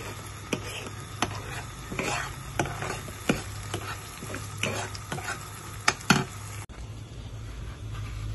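Seasoned food stir-fried in a pan with salt, MSG and sugar, making a steady sizzle broken by repeated scraping stirs of the utensil roughly every half second to second, loud and close, with no talk.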